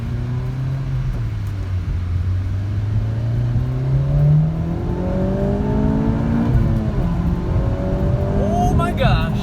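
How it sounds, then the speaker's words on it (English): A car with a K20a2 engine accelerates hard through a second-gear pull, the engine note climbing steadily in pitch and loudness from inside the car before easing off near the end. "So give it a quick second gear pull"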